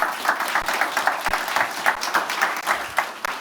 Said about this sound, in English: A big round of applause for Chris Freck and Emergent.